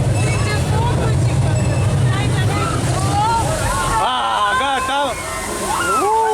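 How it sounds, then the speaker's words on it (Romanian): Water released at a Disneyland Paris attraction, a steady rushing and sloshing wash that runs throughout, close and loud, with excited voices shouting and exclaiming over it. "dă drumul la apă acum"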